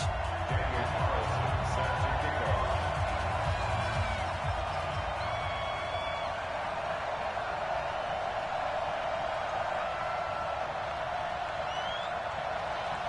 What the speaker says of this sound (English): This crowd is ready as their guys get set to match up between the Houston Oilers and the Miami Dolphins.